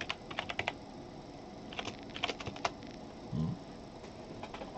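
A password is typed on a computer keyboard during Linux Mint setup, with quick bursts of close key clicks, brief pauses between runs and one dull thump midway.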